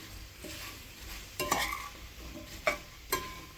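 Apple pieces and white sugar are stirred in a pan, quiet scraping under a low sizzle with several sharper spoon strokes and knocks against the pan, close up and without talk.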